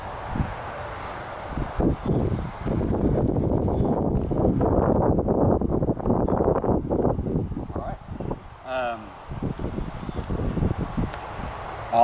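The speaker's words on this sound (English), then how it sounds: "I'll say that the wind is really killing me out here" Wind gusts outdoors across a disc golf field, buffeting the microphone in a constant low rumble with rustling surges.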